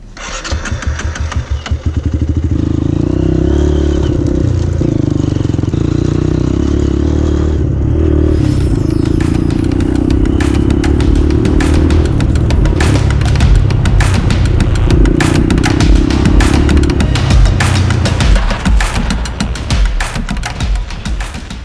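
A Hero Impulse 223 motorcycle starts up and runs with a loud, steady mid-pitched engine drone, some clatter and revving shifts, close to the listener with no talking.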